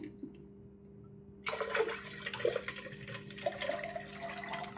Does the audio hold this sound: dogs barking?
no